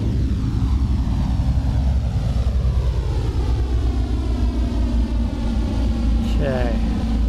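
A propeller aircraft engine held at raised throttle in a flight simulator, a loud steady drone with rising and shifting harmonic tones throughout, a brief whine near the end.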